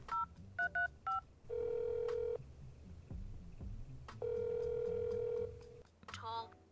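Touch-tone keypad beeps and a phone ringing in the Starstruck: Hands of Time video game: a quick burst of dialing tones, then two long steady rings separated by a pause, with a short tonal flourish at the end and faint background voices.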